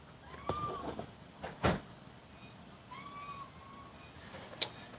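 A house cat gives a few soft, drawn-out meows at moderate distance, with scattered knocks and clatter in a quiet room.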